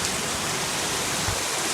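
Heavy rain pours down with strong wind gusting up to 50 miles an hour, heard from a back porch as a steady, dense, close roar with no voices.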